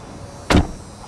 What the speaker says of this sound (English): we close the door